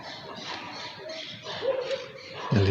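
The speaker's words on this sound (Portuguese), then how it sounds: "o cachorrinho tá vindo aqui." A small dog whimpers and lets out thin, high yips and whines in short bursts over a soft background murmur.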